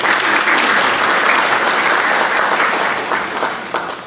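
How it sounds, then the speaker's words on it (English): Audience applause at an evening show on spiritualism, a loud, dense wash of clapping from a full room that holds steady and then tapers slightly near the end. "Can we please give a round of applause?"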